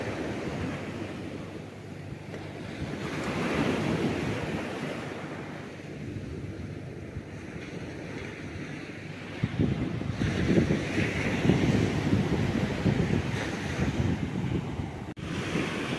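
Strong typhoon wind roars and gusts over crashing waves, steady and loud with swelling surges, no voices.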